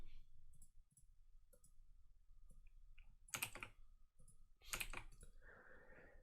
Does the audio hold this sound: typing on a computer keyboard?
yes